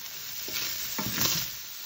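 Sausage frying with crushed red pepper in a pan, a continuous close sizzle with a couple of stirring scrapes midway.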